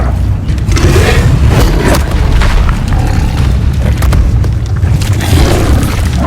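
The Incendio fire spell is cast in the video game Hogwarts Legacy, giving a loud, continuous roaring burst of fire with low rumbling booms and crackle throughout.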